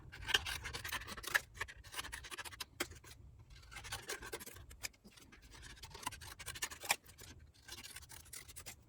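Close and quiet, scissors make a steady run of scratchy snips while trimming a foil tattoo sheet with its backing still on, with brief pauses between cuts and no voices.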